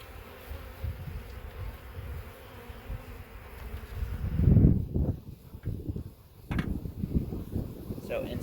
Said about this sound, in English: inside this box that's covered with bees is a queen bee